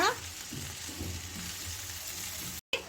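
Ground masala stir-fried with chopped spring onion stalks in a pan sizzles steadily, with soft stirring scrapes and a brief break near the end.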